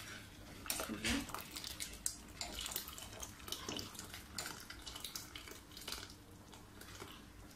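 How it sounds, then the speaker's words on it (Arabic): Water poured into a cooking pot while a mixture is stirred, a continuous splashing pour with clattering of the pot and utensils, fairly quiet and with no talking. "وغادي نزيد كذلك الماء."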